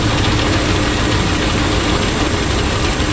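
An old Lincoln Continental V8, long abandoned, runs after being revived, producing a loud, steady low rumble close by with no pauses or voices.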